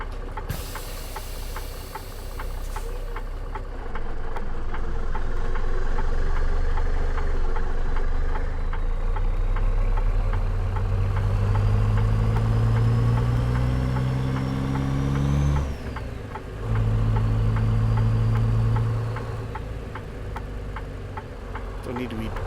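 A Ford CLT-9000 truck loaded with about 35,000 pounds of beverages rolls slowly through a yard, its diesel engine droning steadily and rising in pitch as it builds speed, then dipping briefly before pulling again.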